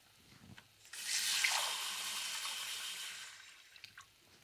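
Cup of chicken broth poured into a pot of rice on the stove, a steady splashing pour of about three seconds, close and fairly loud, with no talking.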